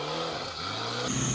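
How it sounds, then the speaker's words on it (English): A 4x4 running a Nissan SR20 four-cylinder turbo engine revs during an extreme off-road challenge, giving a brief, fairly distant, buzzing engine note that swells slightly and holds. "it's a Nissan 4-cylinder turbo, the SR20 engine"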